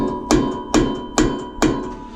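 A hammer taps a socket seated on a seized brake-disc locating screw, four sharp metallic knocks at an even, quick rhythm, close and clear with no talk.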